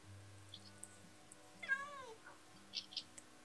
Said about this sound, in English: I've got them meowing.